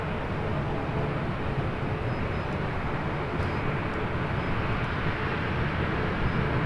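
An Air France Boeing 777-300ER taxis at LAX toward a north side takeoff, its jet engines making a broad, steady roar that holds at constant loudness throughout.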